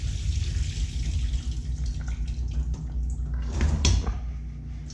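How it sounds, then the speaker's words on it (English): Soaking water drains from a bowl of chickpeas, a steady trickle and splash of liquid running for several seconds with small clatters of the container, no one speaking. "Now we're just going to drain out this water"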